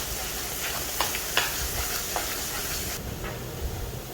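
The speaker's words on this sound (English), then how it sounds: "minced garlic. Need to stir it until it becomes" Minced garlic stir-frying in a hot pan for Nyonya yellow noodles gives a steady close sizzle, broken by a few sharp spatula scrapes and clicks, with no talking.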